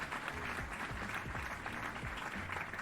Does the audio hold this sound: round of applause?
yes